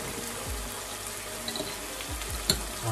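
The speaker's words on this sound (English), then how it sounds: "What I do, add some dark soy sauce, 2 tablespoon" Dark soy sauce poured into a hot pan with cooked green spring onion, giving a soft steady sizzle with a few light clinks and stirring scrapes, fairly quiet and with no voices.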